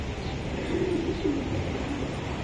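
Soft, low cooing from a racing pigeon, a female club-bred bird, held close and steady through the whole stretch with no talking over it.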